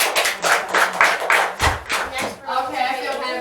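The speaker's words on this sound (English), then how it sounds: "Give them a round of applause." Small audience giving a round of applause for volunteers on a road trip, a short burst of close, uneven hand claps with thumps, fading into murmuring voices.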